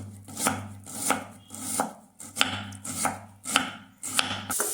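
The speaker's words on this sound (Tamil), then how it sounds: "ஆனியன் எப்போவுமே சின்ன சின்னதாக கட் பண்ணிக்கோங்க" An onion diced into small pieces with a knife on a cutting board: about a dozen crisp, evenly spaced chops, close and clear, with no talking.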